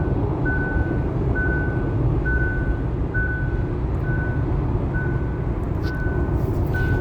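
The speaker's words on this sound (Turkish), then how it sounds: "zaman zaman elleriniz direksiyon tutun diye uyarı veriyor" Repeating driver-assistance warning chime in a Hyundai Ioniq 5 on a long highway drive, eight evenly spaced short tones about once per second, clear above steady loud road and cabin noise.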